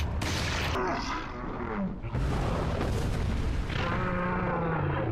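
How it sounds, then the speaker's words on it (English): Shotgun blasts in Resident Evil 4 played in VR on a Meta Oculus Quest 2, several heavy booming shots with ringing decay, loud and close, spaced a second or two apart. "back to the shotgun"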